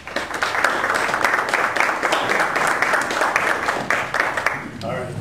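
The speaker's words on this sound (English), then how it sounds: "let's give Paul Jaques a round of applause to welcome him to LA2M" An audience claps steadily to welcome Paul Jaques, a guest speaker at an LA2M meeting, with the dense applause holding loud for several seconds before thinning out near the end.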